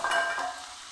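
Sliced potatoes laid into a pan of hot mustard oil give a brief, close crackling sizzle with a sharp burst at the start that quickly settles.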